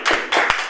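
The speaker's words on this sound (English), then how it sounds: "Give them a clap." A small group of Year 9 drama students claps for classmates after a rehearsal performance, a brief, loose patter of hands in two or three quick bursts, fairly close and moderate in volume.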